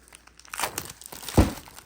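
Fabric jelly roll precut package being opened with scissors for a quilt border project: soft crinkling plastic rustles build over a second, with one sharper, louder crunching snip near the end, close and alone.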